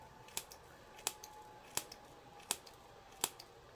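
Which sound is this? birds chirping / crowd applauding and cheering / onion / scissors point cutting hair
scissors point cutting hair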